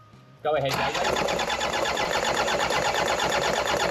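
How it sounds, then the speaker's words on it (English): A Toyota Hilux LN106 engine cranks over steadily on the starter, a loud continuous rhythmic churning that kicks in abruptly after a brief quiet moment and keeps going, with a short spoken cue at the start. "Now I'm just going to get one of the guys to crank the engine until we see oil flowing out of this line."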